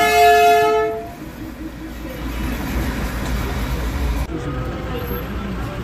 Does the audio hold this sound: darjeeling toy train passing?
yes